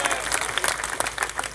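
A crowd claps and applauds at an AAP political election rally in Delhi, a dense, steady patter of many hands sustained for the whole short stretch.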